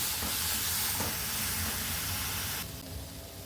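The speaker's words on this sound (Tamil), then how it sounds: "முள்ளங்கி நல்லா வதக்கியாச்சு." Grated radish sautéing in a hot pan while being made into chutney, a steady dense sizzle and hiss close by that softens slightly near the end, with no talking.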